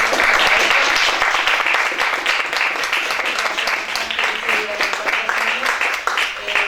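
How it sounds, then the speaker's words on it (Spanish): A crowd at a talk breaks into loud, dense applause that runs steadily throughout, close and full with many overlapping claps and a faint voice or two underneath. "Así que pido un aplauso."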